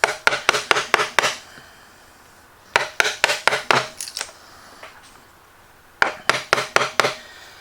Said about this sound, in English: And then you can begin chopping out a little bit at a time